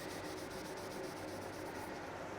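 A soft-backed sanding sponge rubs across a cured flexible plastic refinishing coat, a steady dry scuffing that continues with no pauses and sits fairly quiet and close.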